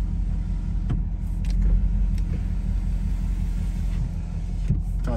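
Power windows on a 2019 Ford Mustang GT Premium convertible whir steadily as they rise, carried over a continuous low engine idle rumble with a few faint clicks, no voices.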